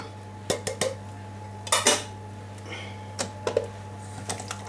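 Canned peeled tomatoes are crushed in a pot with a utensil, making a series of sharp metallic clinks and scrapes in irregular bursts over a steady background hum.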